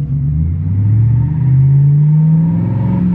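A BMW G11 7 Series with a Thor sports exhaust revs hard and holds, a deep exhaust roar rising in pitch and sustained close by, with no talking.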